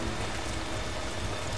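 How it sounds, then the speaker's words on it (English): Heavy video-game rain pours in a dense, constant hiss of drops, loud and unbroken from start to finish with no voices over it. "It's raining so hard, I can barely see where I'm going."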